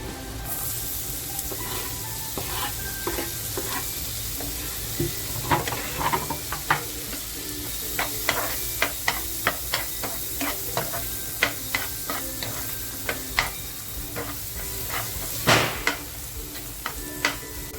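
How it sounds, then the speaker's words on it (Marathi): Finely chopped onion frying in a pan for a Maharashtrian masala chicken, a continuous sizzle punctuated by quick repeated spatula scrapes and taps that come in bursts, close and clear, with no speech. "बारीक कापून घेतलाय ना तो कांदा टाकते"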